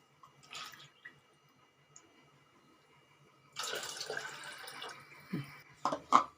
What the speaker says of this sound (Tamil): இப்போ இந்த கப்புலேயே நான் 2 கப்பு தண்ணி விடுறேங்க.